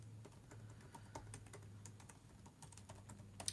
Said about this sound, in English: I'm going to go ahead and type it into the feed here.